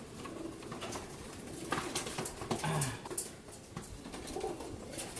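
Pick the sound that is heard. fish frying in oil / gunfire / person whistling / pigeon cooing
pigeon cooing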